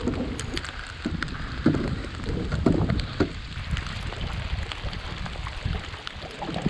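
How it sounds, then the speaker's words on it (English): Heavy rain pours down in a dense, steady hiss in the Killarney backcountry in fall, with individual drops pattering close by and no voices. "This is a lot of rain."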